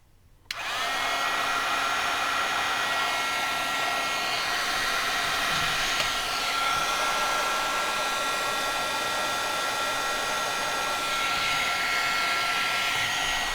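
A heat gun runs continuously over glitter embossing powder on a teal Christmas card, a loud, steady blowing roar with a constant whine that holds from start to finish without pause.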